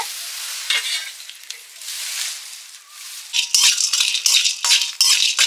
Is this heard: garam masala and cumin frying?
yes